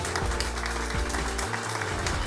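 An audience applauds a singer on a Bulgarian television music show, steady clapping running the whole moment over a loud, sustained musical backing.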